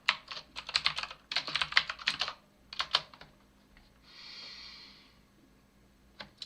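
Bursts of typing on a computer keyboard in a cluttered desk setup with wires around, clattering keystrokes in quick clusters, then a brief breathy sound and a few final clicks, close and moderately loud.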